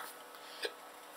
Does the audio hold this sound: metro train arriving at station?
no